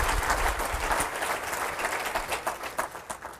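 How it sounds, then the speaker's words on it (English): An audience at a Facebook and email marketing talk applauds the speaker Jay, a dense, steady wash of clapping from many hands that holds for a few seconds and thins slightly toward the end. "Round of applause for Jay,"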